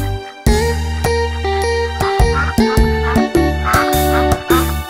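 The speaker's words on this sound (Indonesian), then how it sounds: "Ibunya berkata kwek kwek kwek" Duck quacking in an Indonesian children's nursery song about five little ducks, the quacks repeated rhythmically over a loud sung musical backing with bright chiming accents.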